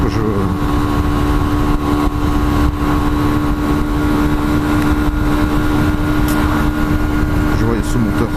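A Hyosung Aquila 125 motorcycle engine runs steadily and close for the whole stretch, a continuous loud mechanical drone with a constant low hum and no clear revving changes.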